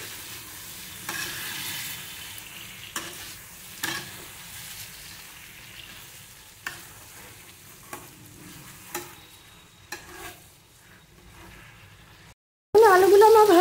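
A spatula scrapes through fried potatoes with chopped coriander in a pan, making a slow series of distinct stirring strokes over a low sizzle, then a brief silence and a sudden louder noise at the end.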